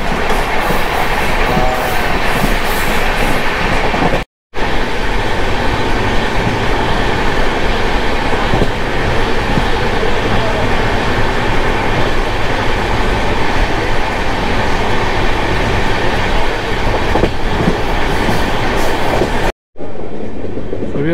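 Hapa Duronto Express passenger train running on rails, with a loud, steady rumble and rhythmic clatter of wheels heard close from onboard for the whole stretch, broken only by two brief dropouts.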